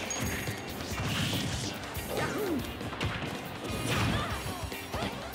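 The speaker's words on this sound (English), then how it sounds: "And Mario smashed right off the stage" Hectic Super Smash Bros match audio as Mario is smashed off the stage: heavy crashing hits and whooshes layered over game effects and music, loud and continuous with a louder burst near the end.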